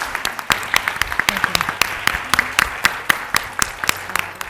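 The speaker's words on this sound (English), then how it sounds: "Let's give our panelists a big round of applause." Seminar audience applauding the panelists, a dense run of many hands clapping at close range, steady and lively for several seconds.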